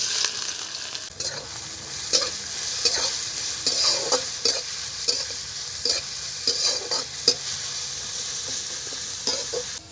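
Onions fry in oil alongside browning chicken for patty filling, a steady bright sizzle running the full length with repeated scraping stir strokes near the mic, no voices.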